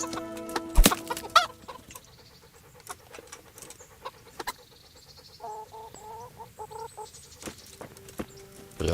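Chickens cluck and squawk in the medieval role-playing game Kingdom Come: Deliverance, with one sharp loud squawk early on, then scattered clucks and a short run of repeated calls against a quiet background.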